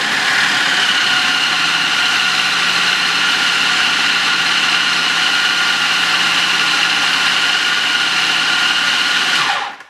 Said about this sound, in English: So we have our ingredients in our food processor, and we're just going to start pulsing it together.